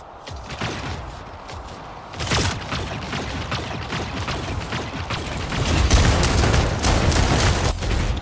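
Shotgun fire in a video game, with repeated sharp broadband blasts in close succession that grow heavier and denser toward the end, loud and close without any voices.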